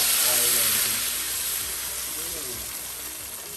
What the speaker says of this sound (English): I add this whole jar of masala